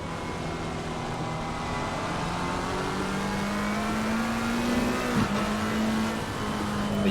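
GT3 race cars lapping the Hungaroring in a sim racing game, a loud, steady engine howl that climbs in pitch under acceleration, with a brief downshift blip before pulling away again.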